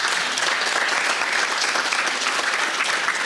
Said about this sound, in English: Please all join me in a round of applause for our panelists.